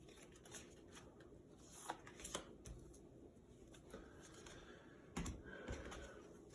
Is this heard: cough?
no